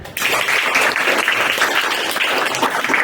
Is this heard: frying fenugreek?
no